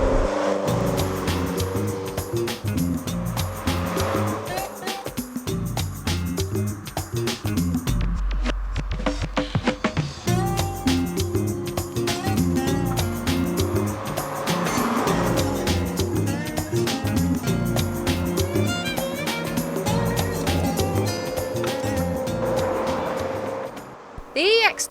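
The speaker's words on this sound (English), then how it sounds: "It sounds really throaty with those twin carburettors and the acceleration is" An EX2 kit car with twin carburettors accelerating on a drive, its throaty engine rising and falling through several gear changes, with a voice talking over it for much of the time.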